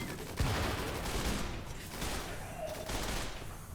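Turret gunfire in the RimWorld video game, a few bursts of rapid shots over a rumbling battle backdrop, moderately loud and dense without any clear talking.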